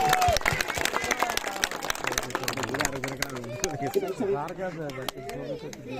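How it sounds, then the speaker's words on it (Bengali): Audience applause at an outdoor metro rail project inauguration gathering, a dense burst of clapping that thins and fades into crowd chatter and murmuring voices over about six seconds. "তাই অনেক জোরে করতালি please।"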